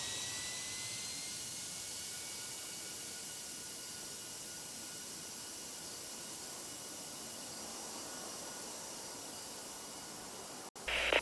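Jet engines at Lisbon airport in Tower! Simulator 3 give a steady, loud broadband roar with a thin whine held throughout, ending in a brief dropout and a short burst at the very end.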